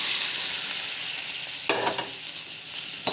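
Vegetables for rava kichadi sautéing in a pan, a steady close sizzle broken by a sharp scrape of stirring partway through and a few lighter clinks after, with no talk.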